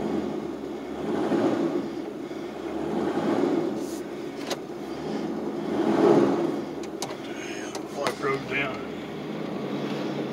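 A 1996 GMC Sierra pickup truck engine idling steadily after starting, a continuous low rumble with slight swells, heard close, with a person talking over it.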